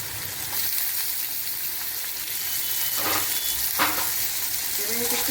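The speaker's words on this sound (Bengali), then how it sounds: "ভাজছি" Long potato strips fry in hot oil with black cumin, chillies and bay leaf, giving a steady, close sizzle with a few stirring scrapes; no one speaks.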